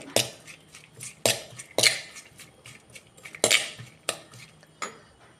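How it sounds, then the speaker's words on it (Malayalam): Onion, ginger, green chili and curry leaves being stirred in a clay pot for a Thrissur-style coconut milk fish curry, with a spoon scraping and knocking against the pot in uneven strokes, close and fairly quiet, with no talking. "സവാള ഇഞ്ചി പച്ചമുളക് വേപ്പില എന്നിവ ചട്ടിയിലേക്ക് ഇട്ട് കൊടുക്കാം എന്നിട്ട് നല്ലോണം ഒന്ന് മിക്സ് ചെയ്ത്"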